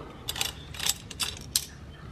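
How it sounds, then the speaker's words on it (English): A small bolt on a 2020 Honda Grom exhaust is loosened, giving several short, close bursts of metallic ratcheting clicks separated by brief pauses. "Try to get this here and unscrew this little bolt."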